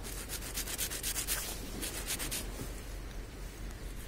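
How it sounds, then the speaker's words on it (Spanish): Rough scraping of sandpaper on a small homemade fishing float, worked outdoors in steady back-and-forth strokes, close and fairly quiet with no talk. "Y ahora voy a lijarlo un poquito."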